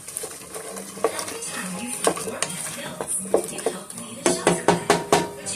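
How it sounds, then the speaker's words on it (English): Apple filling with sugar and vanilla extract cooks down in a pan while a utensil scrapes and clinks against the metal, ending in a quick run of sharp taps. "I'm going to cook it down until it starts to caramelize"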